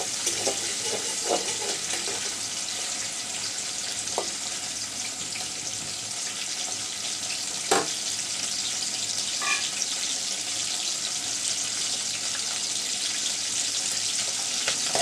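Dried fish (shutki) frying in hot oil in a pan, a steady broadband sizzle running throughout with a few soft clicks and brief bursts, no talking.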